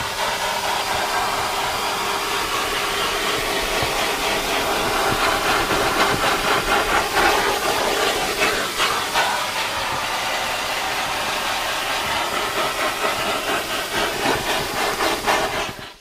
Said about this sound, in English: When vacuuming leather seats, it's important to gently pry the various areas apart to draw out accumulated dirt from the creases and